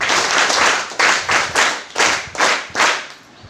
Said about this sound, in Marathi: आणि एकदा तुमच्या स्वतःसाठी एकदा जोरदार टाळ्या वाजवा.